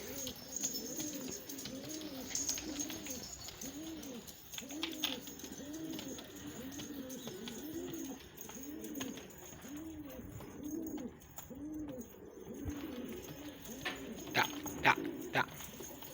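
Pigeons kept in a backyard loft coo steadily and rhythmically, with repeated soft, low calls close by. Someone talks quietly now and then, and there are faint clicks and movement noises.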